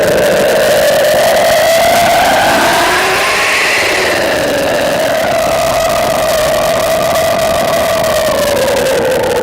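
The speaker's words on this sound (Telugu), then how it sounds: "ఈ విధంగా aeroplane take off sound effect ఉంటుంది." An aeroplane taking off at an airport, a loud continuous engine roar whose whining tone rises and then falls. The sound stays strong and fills the whole stretch.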